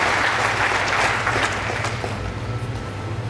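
Sustained applause from a seated crowd at a ceremony installing a district president in India, dense and steady, filling the whole stretch without pause.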